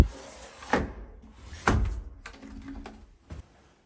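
A sliding window being shut in a rural Japanese akiya under renovation: a few separate wooden-frame knocks and sliding thuds spread across a few seconds, close by and moderately loud, with no talking.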